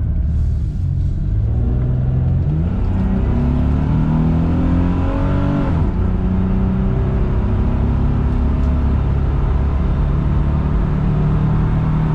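Isuzu Vehicross engine run at wide open throttle, a loud, steady low rumble that climbs in pitch through a sustained rev, drops briefly near the middle, then holds high and constant with no talking.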